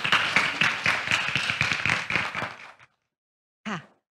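Audience at a Thai dessert startup event applauds with dense, even clapping that fades out, followed after a short silence by a brief voice.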